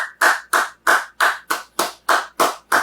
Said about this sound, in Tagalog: Minsan pa isang malakas na palakpak para sa ating Panginoon.